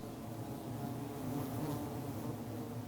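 Wild honey bees buzz steadily inside their tree hollow, a dense, continuous close-up hum of many insects with no voices present.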